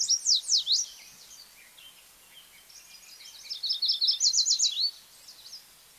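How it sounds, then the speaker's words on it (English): Yellow warbler song from a wetland: two bright, high, quick phrases of sweet-sounding notes, a short burst followed by a longer trilled run after a pause, moderately near against a quiet background. "So let's take a listen to the warbler"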